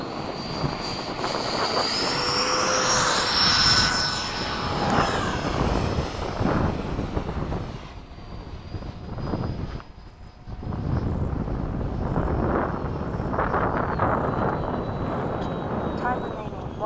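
Small RC jets, an FMS 70mm F/A-18 and an HSD 105mm F-16, whine overhead at a flying field as they pass and fade, with wind buffeting and people talking over the engine noise.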